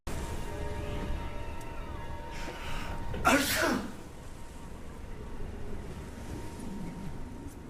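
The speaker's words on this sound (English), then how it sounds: "Keanu sneezed." A single sharp sneeze bursts out midway, surrounded by a quiet, steady background hiss.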